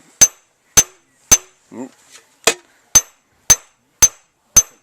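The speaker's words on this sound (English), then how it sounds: "I'm kind of doing little circles with my hammer" A hammer strikes metal in cold forging peening, nine sharp, evenly spaced ringing blows at close range, with a brief spoken exclamation slipping in between two strikes.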